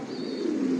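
Racing pigeons of a Janssen long-distance line in a loft give a continuous low cooing murmur, steady and fairly close, with a faint higher tone above it.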